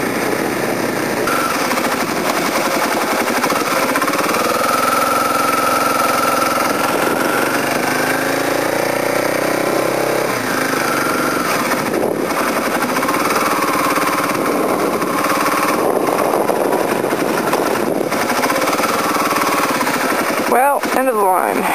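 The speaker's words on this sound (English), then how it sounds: "I'm out on a motorcycle" A supermoto motorcycle ridden over slushy winter roads, its engine putting out a rough, rapid staccato chatter and drone that rises and falls with the throttle, close and loud, with a rider talking over it at times.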